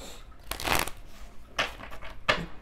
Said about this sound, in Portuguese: Mas eu quero embaralhar mais, aquário.